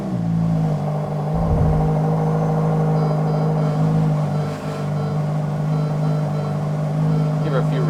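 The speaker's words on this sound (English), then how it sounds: "So we can start this thing up and see how it goes." A Ferrari supercar engine rumbles close by at a steady idle, a low droning hum with a brief deeper surge early on, and someone talks over it.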